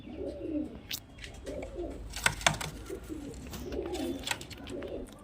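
A female flying pigeon coos close by in short, soft, throaty bursts that repeat at irregular intervals, with some scattered clicks and small knocks in between and no talk.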